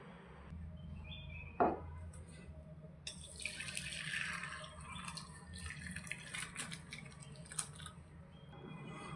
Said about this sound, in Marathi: ह्याच्यातलं आपल्याला पाणी वेगळं करायचं आहे.